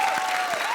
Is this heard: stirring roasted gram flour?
no